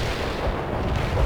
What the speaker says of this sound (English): Anti-tank strike is inbound.